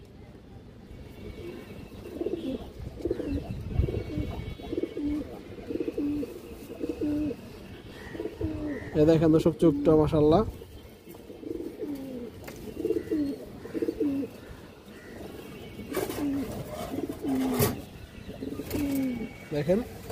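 A light-coloured sabji (green) female pigeon of good bloodline, kept with other fancy pigeons, coos in repeated soft rolling phrases close by while someone talks over them.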